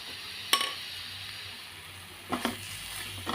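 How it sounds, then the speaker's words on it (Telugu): Liver frying with coriander powder and other spices in a pan gives a steady, close sizzle, with a sharp utensil clink near the start and a couple of softer knocks later. "ఇవన్నీ వేసి బాగా మిక్స్ చేసుకుని ఫ్రై అంటే ఇట్లా దగ్గరికి అయిపోవాలండి"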